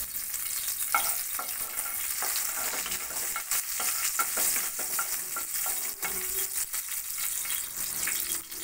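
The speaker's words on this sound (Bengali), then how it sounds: "ফোড়নে দিচ্ছি ছোট ছোট 3টে শুকনো লঙ্কা" Three small dried red chillies frying in hot mustard oil for tempering, giving a steady bright sizzle with crackles and pops and a few stirring scrapes, close and continuous with no voice.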